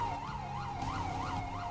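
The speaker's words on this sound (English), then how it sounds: "At least the sirens sound good." Police car siren in GTA San Andreas roleplay, a looping wail rising and falling about every 0.35 seconds, steady and prominent with a low vehicle rumble beneath and no talking.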